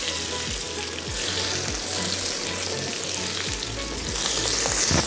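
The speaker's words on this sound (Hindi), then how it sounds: "एक मिनट भुनेंगे प्याज को।" Onions sizzle steadily in a pan with cumin and green chillies for vegetable masala Maggi, a dense, even frying hiss with soft stirring knocks repeating throughout and growing slightly louder at the end.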